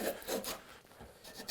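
A compass plane shaves a curved wooden board in short rasping strokes, several quick close scrapes with a brief pause between, faint and dry with no talk.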